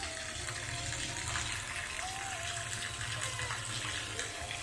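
Spring water gushes from a pipe at the Bolocboloc sulphur springs in Barili, Cebu, a pipe that feeds a swimming pool; a steady, dense broadband rush fills the whole stretch, close and continuous, with a faint tonal hum underneath.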